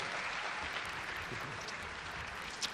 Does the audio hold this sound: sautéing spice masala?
no